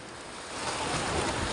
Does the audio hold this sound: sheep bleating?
no